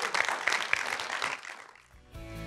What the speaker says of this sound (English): a hand clap of praise today